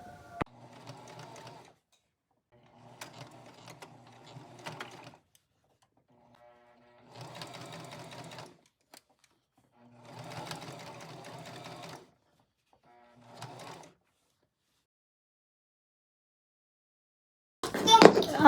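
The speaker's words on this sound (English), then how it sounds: "So we are going to go ahead and sew this down." A sewing machine stitches fabric for a reversible circle skirt in several bursts of steady mechanical whirring separated by pauses. The stitching is close and clear, with no talking.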